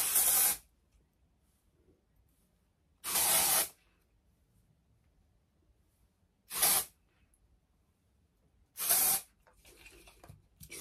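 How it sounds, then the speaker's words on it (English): Four short, loud bursts of hair spray hiss onto the crown of the head, spaced a few seconds apart with near silence between, close to the ear. "So I spray just in the crown of my hair."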